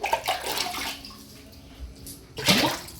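Water splashes and runs in uneven bursts from a tap into a basin during washing, louder at the start and again near the end.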